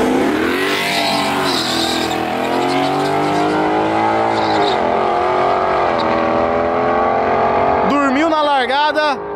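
A Ford Mustang with a 5.0-litre Coyote V8 drag races an Audi RSQ3, engines roaring loudly and continuously as they accelerate, with a high revving whine rising near the end and a voice faintly under the noise.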